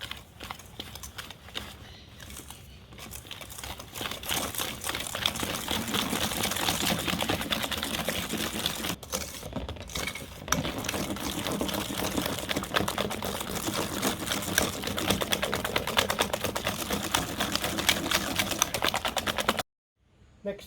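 An electric mixer beats eggs into a batter for a Grenoble roll, giving a continuous rattling whir with a fast, ticking rhythm that runs steadily for nearly twenty seconds before stopping.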